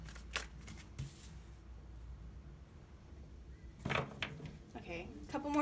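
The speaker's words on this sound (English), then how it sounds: "Okay, a couple more shuffles and I'm gonna have to start pulling." Tarot cards are shuffled by hand in quiet, brief riffling bursts, a couple early on and a longer flurry near the end, close to the microphone amid soft background noise.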